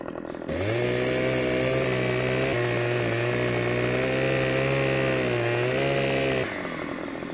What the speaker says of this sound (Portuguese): Vamos girar a motosserra.